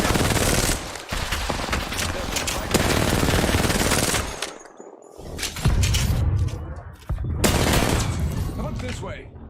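Video game weapon fire comes in loud, dense bursts of rapid gunshots separated by brief quiet gaps, with a voice talking over parts of the action.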